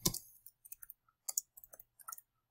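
Sparse typing on a computer keyboard: short, close, crisp key clicks in small uneven bursts separated by silent gaps, with no voices.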